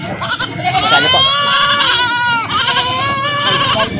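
Several goats bleat loudly and close up in long wavering calls at a livestock market in Uson, Masbate, overlapping one another with a short pause midway.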